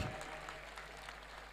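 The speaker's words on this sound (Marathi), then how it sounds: "पहिल्यांदा सगळ्यांकडून मला जोरदार टाळ्या पाहिजेत या विद्या मंदिरासाठी" At a school's silver jubilee ceremony, an audience claps for the school in a soft, steady wash of applause that sounds somewhat distant, with a low hum underneath.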